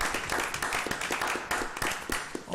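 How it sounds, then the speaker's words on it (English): Audience applause at a school district board meeting, a dense stretch of many hands clapping steadily for a few seconds at moderate volume, with a few voices faintly mixed in. "let's give our team a round of applause for that video."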